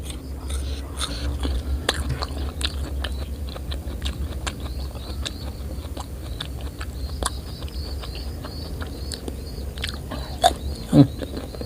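Crunchy young coconut shell is chewed up close, giving repeated sharp cracking bites and grinding crunches over a low steady background hum, with a couple of louder crunches near the end.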